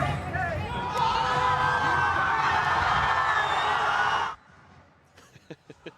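Live crowd at a Valorant Masters esports match in Toronto erupts in loud cheering and roaring for about four seconds, then cuts off abruptly to near silence with a few faint knocks.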